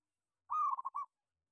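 A local zebra dove (perkutut) coos alone outdoors in a tree. It is a single clear, close, mellow phrase: one long note followed by two quick rhythmic pulses, in otherwise silent surroundings.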